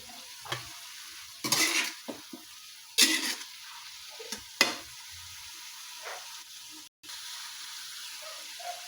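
A spoon stirs ground pepper through a hot pan, giving a few scraping and clattering strokes with short pauses between them over a quiet kitchen background.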